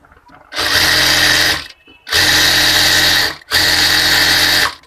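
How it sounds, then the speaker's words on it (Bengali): A sewing machine stitches a folded hem on fabric for baby pants, running in three loud, close bursts of rapid whirring stitching separated by brief pauses. "ভাঁজ দিয়ে একটা ফল সেলাই দিয়ে নিলাম।"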